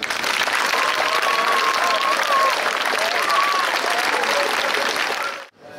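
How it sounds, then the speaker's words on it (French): A crowd at an FSY 2024 youth gathering in Bouaké applauds their counsellors, sustained broad clapping with a faint tonal whistle-like sound running through it, ending in an abrupt cutoff. "Et je souhaite que chacun d'entre vous applaudisse son conseiller."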